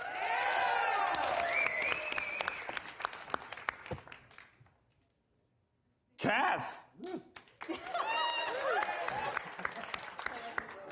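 Scattered audience clapping at an awards-style comedy show, a thin round that mixes with talk and laughter, fading out midway, then returning under renewed chatter and voices.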